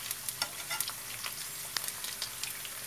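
Food sizzles and crackles in a covered pan, a steady frying hiss scattered with sharp pops and spits at close range, no voices. The dish is a flourless, ovenless mock pizza, with sausage to be added later.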